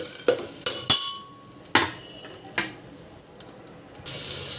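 Palak rice mixture being stirred and fried in a pan, with a series of sharp scraping and clinking spoon strokes at irregular intervals, close and fairly loud, without talk.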